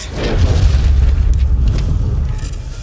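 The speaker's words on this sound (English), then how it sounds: "I used those to create the explosion from the missile strike and the fire that was on the UFO" A deep, sustained explosion from a missile strike, built from stock film effects for a UFO scene: a loud rumbling roar with crackling debris that slowly fades, with no talking.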